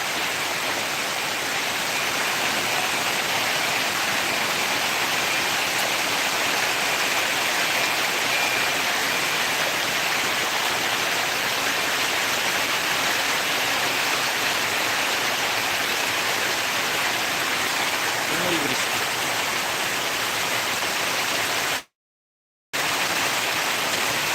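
Torrential rain pours onto a road in a dense, steady hiss that barely changes in level, then cuts out for a brief moment near the end.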